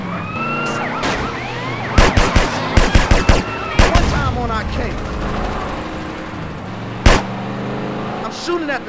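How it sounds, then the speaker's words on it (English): Gunfire during a drive-by in GTA San Andreas with a modded Toyota RAV4 cracks out in sharp clustered shots, a rapid burst in the middle and a lone shot later, over game sirens and voices talking. "Shooting at the damn blur"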